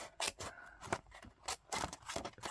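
Scissors trimming a paper craft die piece for a shaker card, several quick crisp snips in an irregular rhythm, close and clear with no talking.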